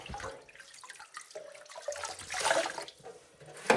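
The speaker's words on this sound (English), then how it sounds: "Right, I'm going to get rid of this dirty water." Dirty water drains from a kitchen sink with an uneven gurgling rush that swells and fades over a few seconds, ending in a sharp slosh.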